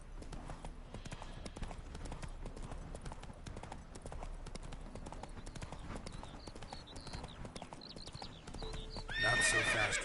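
Geralt's horse Roach in The Witcher 3 snorts and neighs near the end over a steady, rhythmic clip-clop of hooves trotting across the ground, with game ambience underneath throughout.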